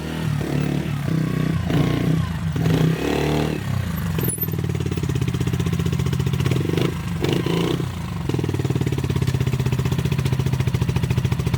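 A motorcycle engine runs during repair work, holding a loud, steady, throbbing idle with some clattering and a few shifts in pitch. No one speaks.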